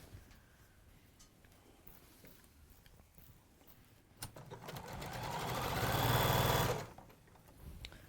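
A sewing machine runs fast on seams for a wall hanging or cushion, a soft rattling whir that swells for about two seconds and then stops, following quieter handling noise.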